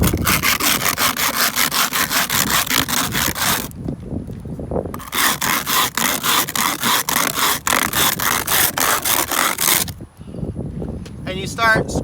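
A metal can lid is scraped hard back and forth on an abrasive concrete surface such as a parking spot, making loud, rhythmic rasping strokes in two long bursts separated by a brief pause.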